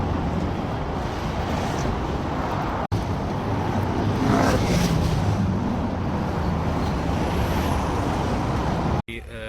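Busy Hong Kong street traffic with buses, cars and motorbikes passing, a steady loud roar of engines and tyres with a hiss like an air brake, continuous and close for the whole stretch.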